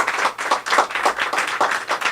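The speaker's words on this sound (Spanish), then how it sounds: "Dale un fuerte aplauso a nuestro Dios." A church congregation gives a strong round of applause, dense rhythmic clapping from many hands, loud and sustained throughout with no speech over it.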